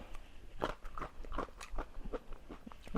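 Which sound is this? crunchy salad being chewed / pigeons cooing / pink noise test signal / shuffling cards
crunchy salad being chewed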